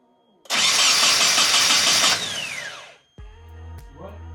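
A Nissan 240SX engine cranks briefly, then catches and roars loudly at high revs for about two seconds before winding down, followed by a lower idle rumble and a few clanks.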